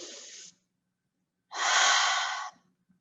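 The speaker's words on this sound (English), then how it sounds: "let's all take another breath and refocus" Two breaths from people, a short exhale that fades out, then a pause and a longer, louder breath lasting about a second, close up with no other sound.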